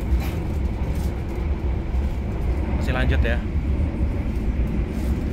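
The KA Argo Sindoro passenger train running fast at about 118 km/h, heard from inside as a loud, steady rumble and rattle beneath people talking in the carriage.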